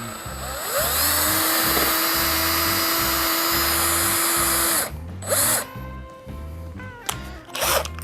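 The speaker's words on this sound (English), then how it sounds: "So let's get drilling." A power drill bores pilot holes into peg board for organizing game room wiring, a loud sustained whine for several seconds, then short stop-start bursts as the bit finishes.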